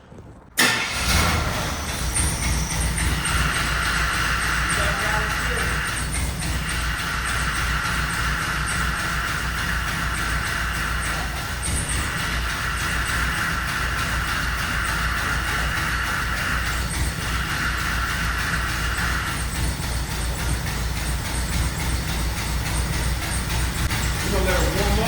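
A 1985 Chevrolet Monte Carlo SS engine cranks and catches about half a second in, then settles into a loud, steady idle on a cold day, holding a constant rumble for the rest of the clip.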